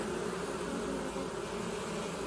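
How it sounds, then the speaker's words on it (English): A dense, continuous buzz from a swarm of honeybees fills a swarm trap as they fan at close range, steady and loud throughout with no pauses. "The good news is that there's already bees that are fanning."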